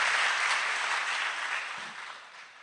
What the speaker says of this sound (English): Give Malema a big clap